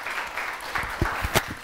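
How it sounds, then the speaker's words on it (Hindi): A studio audience claps for a morning talk show, a loose scatter of hand claps with a few sharper ones building toward the end, close and moderately loud with no voice over it. "उसामा भाई के लिए बहुत सारी तालियाँ, बहुत सारी तालियाँ।"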